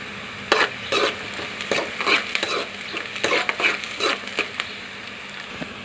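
Onions and tempering seeds fry in oil over medium flame, sizzling steadily while a spoon stirs and scrapes the pan in irregular strokes, close up, with no talking.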